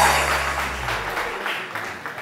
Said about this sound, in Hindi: जोर से, जरा जोर से तालियां होनी चाहिए।